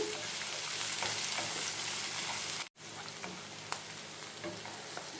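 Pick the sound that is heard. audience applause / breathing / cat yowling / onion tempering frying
onion tempering frying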